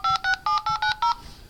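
Six short, evenly spaced keypad tones from a T-Mobile HTC 8X phone dialer, loud and close, followed by a brief fading tail.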